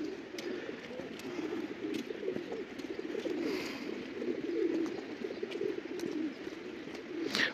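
Pigeons cooing outdoors on a city street near Chistye Prudy in Moscow, a steady low murmur of coos over light background street noise, continuous throughout and at moderate distance.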